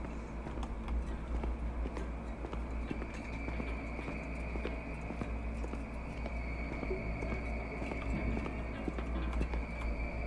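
Horse hooves clip-clop in the horror video game The Beast Inside, a soft steady patter of steps over a constant low ambient drone, faint and with no voices.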